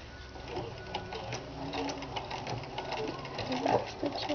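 Sewing machine stitching a Kapp-style Christian headcovering, running steadily with a busy mechanical whir and a brief backstitch, close and continuous throughout.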